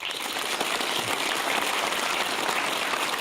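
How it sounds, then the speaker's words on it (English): Studio audience at a televised Q&A panel discussion on drought giving themselves a round of applause, a dense, even wash of clapping heard steadily throughout. "Please give yourselves a round of applause."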